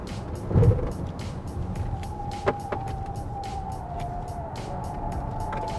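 A 2020 Hyundai Palisade Diesel pushed through a handling test, its steady road and engine rumble running throughout with a faint whining tone layered on top and a brief thump near the start.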